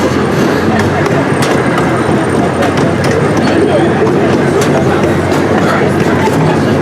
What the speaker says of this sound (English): one of 3 miniature trains here at the San Antonio Zoo